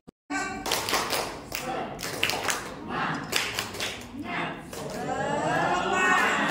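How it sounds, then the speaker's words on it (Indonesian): Seated audience at a training session doing a rhythmic spirit clap, tepuk semangat, in a series of bursts of many hands together, near and lively, ending in a sustained round of clapping. "tepuk semangat dulu"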